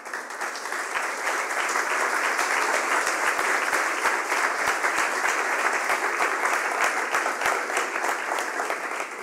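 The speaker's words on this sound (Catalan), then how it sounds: "Un aplaudiment per a ell." A room full of people at the Premis Lletraferit 2022 awards ceremony clapping steadily, dense and sustained, swelling slightly and then tapering near the end.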